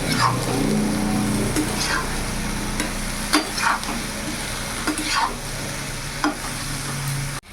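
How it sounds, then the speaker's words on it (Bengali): Ridge gourd with salt and turmeric is stirred in a hot pan, giving a loud, steady sizzle close by with regular scraping strokes of the spatula. "এবার ভালো করে নাড়াচাড়া করে নেব"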